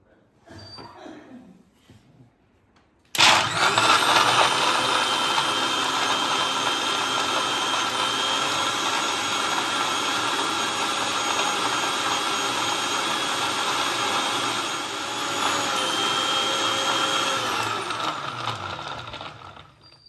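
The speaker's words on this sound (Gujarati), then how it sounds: "હવે આપણે આ બધી સામગ્રીનો મિક્સરમાં મિલ્કશેક તૈયાર કરીશું" A kitchen mixer roars loud and steady for about seventeen seconds while blending a chocolate dry fruit milkshake, starting abruptly after a quiet moment and whirring continuously until it winds down.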